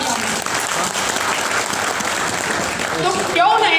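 An audience claps in sustained, dense applause at a Hindi-language real estate company event, with a voice briefly cutting in near the end.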